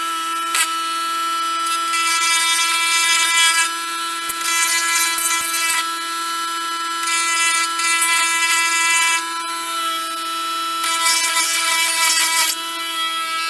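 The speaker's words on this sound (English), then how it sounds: "You don't want to sand too much." A rotary power tool sanding a custom Marvel Legends Deadpool action figure, a loud high-pitched whine running in steady bursts with brief pauses, close and alone.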